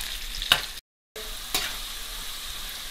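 Potatoes and okra fry in oil in a pan, giving a continuous close sizzle with a couple of brief pops and one short moment of silence.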